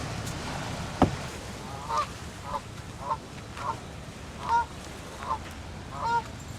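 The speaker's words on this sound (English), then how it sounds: "Well, there's geese everywhere." Geese honking repeatedly at a steady pace, moderately distant, over a low outdoor rumble.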